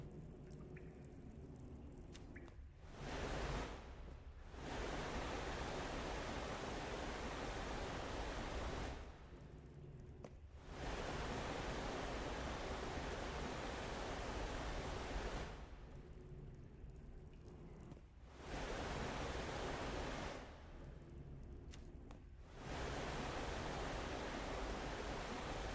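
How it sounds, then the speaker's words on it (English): A waterfall ambient sound effect in a video game build plays as a dense rushing hiss in several stretches of about five seconds each, separated by short quiet gaps. "that was just the sound effect for the waterfall for the area"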